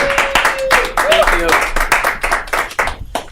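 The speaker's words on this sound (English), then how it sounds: "Round of applause behind Jason, behind the bar." Comedy club audience clapping for the bartender before the headliner at Shakers, a scattered run of distinct claps with gaps, fairly close, with a voice speaking over the first half.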